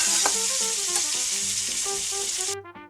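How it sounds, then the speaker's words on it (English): Steady, bright sizzling of chicken frying in a hot pan, with faint tonal music underneath, ending abruptly. "You hear that sizzle?"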